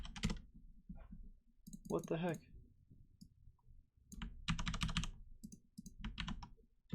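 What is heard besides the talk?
typing on a computer keyboard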